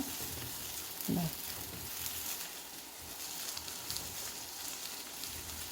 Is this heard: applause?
no